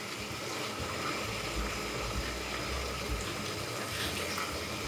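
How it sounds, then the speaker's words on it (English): Beef stock pours into a pot of Hungarian beef goulash with tomatoes, a steady gushing splash lasting several seconds at moderate volume. "Then I'll put in half of one of these beef stock, about 250 mils of beef stock."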